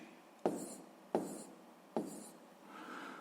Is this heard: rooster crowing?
no